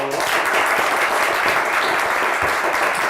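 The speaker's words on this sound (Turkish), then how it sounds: "bir avuntu alkışı daha alalım" A studio audience on a Turkish television word-game show gives steady, dense applause throughout, loud and even with no pause.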